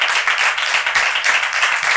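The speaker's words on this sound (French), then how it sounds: "On peut l'applaudir et on le fait entrer sur ce plateau." A television studio audience applauds the first guest coming onto a talk-show set, a dense, steady patter of many hands clapping at close range throughout.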